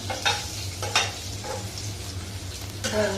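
Potato slices frying in hot oil, a steady soft sizzle with a few light clinks of utensils against the pan, close by and without voices.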